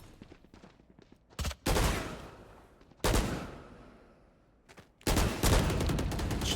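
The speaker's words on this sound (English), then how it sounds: "Shooting some pre-fire shots" Bursts of rapid gunfire in the video game Valorant, three loud sprays of shots separated by short pauses, each burst crisp and close with a brief ringing tail.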